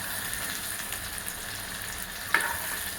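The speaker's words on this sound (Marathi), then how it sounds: "कांद्याबरोबर वांगे सुद्धा चांगले तेलामध्ये फ्राय होत आहेत" Brinjal and onions fry in oil with a steady, close hiss. A single sharp clink of a utensil lands near the end.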